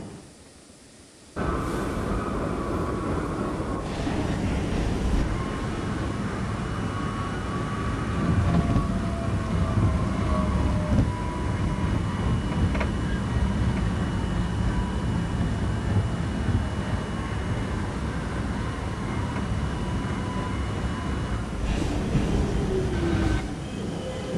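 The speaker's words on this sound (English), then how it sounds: "This is a Slicen bound shuttle train." A B/D line subway shuttle train runs through snow, a loud, steady rumble of wheels on rails that starts abruptly and continues for the whole stretch, with faint metallic wheel squeals and whines over the roar.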